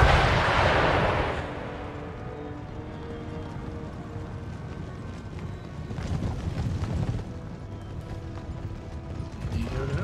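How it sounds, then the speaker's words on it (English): Artillery fire and cavalry in the Empire: Total War battle game: a heavy cannon boom opens, followed by continuous rumbling battle noise with galloping hooves and scattered shots. "Just get all my artillery to engage their cavalry."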